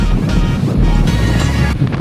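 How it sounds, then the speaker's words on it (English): Strong, chilly wind of around 80 km/h roars steadily into the microphone while loud surf crashes at the Bay of Islands on the Great Ocean Road, a dense, unbroken rush with no pauses. "Very, very, very windy."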